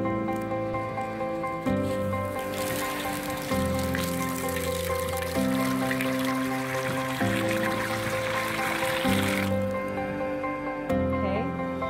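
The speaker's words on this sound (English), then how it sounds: "I want to put the water in because I don't want to put it into a very hot kettle." Water is poured into a cast iron kettle set over an open fire outdoors. It makes a steady, rushing fill lasting several seconds, close and moderately loud beneath ongoing tonal background music.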